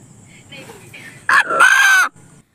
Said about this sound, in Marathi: बोलका कोंबडा बनलाय चर्चेचा विषय